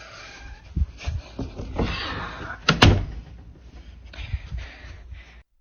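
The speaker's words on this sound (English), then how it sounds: "The door briefly opens before quickly shutting again," A door opens briefly and then shuts quickly, giving a few thuds and one sharp slam in the middle, with softer knocks and rustles around them in a quiet room.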